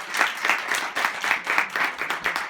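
A church congregation claps for Ricardo during a service, a lively round of hand claps with a loose pulsing rhythm, close and full, with no voices over it.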